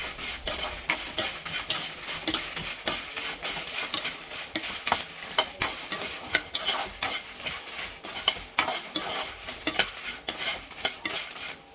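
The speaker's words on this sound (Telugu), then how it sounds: "జీలకర్ర, ఎండు కొబ్బరి వేసి బాగా వేయించుకోవాలి." Cumin seeds and dry coconut toasting in a pan for a bitter gourd fry make a low sizzle under quick, rhythmic scraping and stirring that runs almost without a break.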